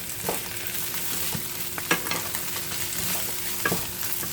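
Vegetables for fried rice cooking in a wok or cast iron pan, a continuous close sizzle broken by a few sharp scrapes and clinks of a utensil, with no voices.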